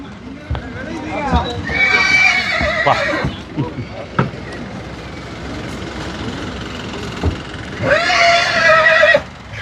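Horses whinny loudly twice inside a six-horse trailer at Anthiyur market, with hoof clomps and knocking in the enclosed space and a low engine hum underneath.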